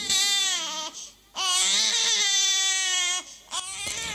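An infant cries loudly and close by in wailing, strained bursts with brief breaths between them, part of a staged school performance of the Tangkuban Perahu legend.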